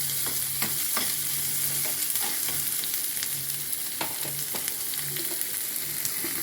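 Onions fry in hot oil with golden-browned urad dal for rava bun dosai, a constant bright sizzle at moderate loudness punctuated by crackling pops and spatula scrapes, without any voices.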